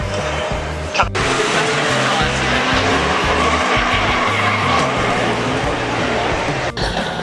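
A Koenigsegg supercar at the Goodwood Festival of Speed 2018 roars steadily throughout, with loud, continuous engine and road noise and crowd voices mixed underneath.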